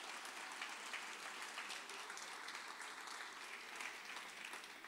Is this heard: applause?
yes